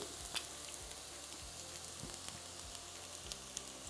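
Onions frying in oil in a pan, a steady close sizzle that crackles continuously without pause, with faint spoon movements underneath.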